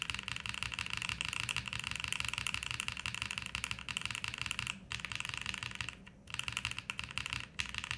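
Rapid, continuous key clacks from a Bauer Lite prototype mechanical keyboard with linear switches, typed close up in a steady flurry with a few short pauses and no talking.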